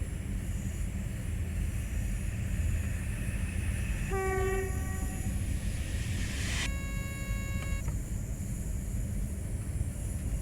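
A BR406 or BR612 locomotive in Train Sim World, its constant rolling rumble broken by two separate blasts of a multi-tone horn, the second longer and a little brighter, with no talk.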